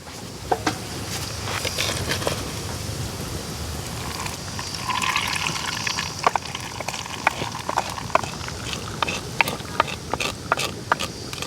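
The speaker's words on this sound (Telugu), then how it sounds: "ఇప్పుడైతే ఈ తిరగమాతని మన పప్పులసులు అయితే వేసేసుకుందాం" Hot tempering poured into pappulusu lentil stew, a sizzling crackle with scattered sharp pops and spatters over several seconds, close and moderately loud.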